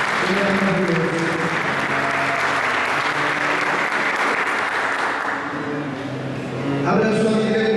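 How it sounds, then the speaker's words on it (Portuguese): Sustained applause from a large church congregation, steady clapping throughout with a brief dip near the end before swelling again. "Vamos aplaudir Jesus por isso?"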